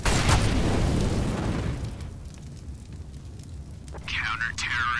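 A Molotov incendiary grenade in the Counter-Strike map Train bursts with a loud roaring whoosh that settles into a crackling burn, while players' voices and game announcements sound over it.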